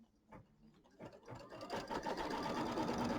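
An embroidery machine stitches a placement line on quilt fabric, starting with a few separate needle strokes and then building into a fast, steady mechanical whir, close and fairly faint with no speech.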